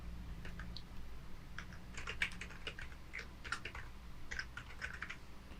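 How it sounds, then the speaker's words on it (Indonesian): Quiet, close typing on a computer keyboard: uneven bursts of light keystrokes with short pauses between them, heard alone without speech. "kita ketikkan lagi S/D yang artinya sampai dengan tanggal akhir."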